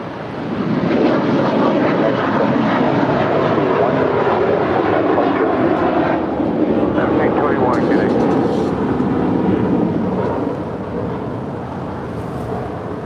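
A Hawaiian Airlines Airbus A330 jet roars loudly and steadily at LAX, a broad sustained engine rumble that eases slightly near the end, with people talking underneath.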